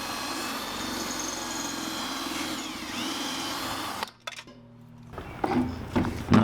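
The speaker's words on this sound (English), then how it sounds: "Not drilling these all the way through, just enough to get the handle off." A power drill bores into the aluminum rivets of a pot handle with a steady, whining motor drone. It cuts off partway through, followed by scraping and clanking metal handling sounds.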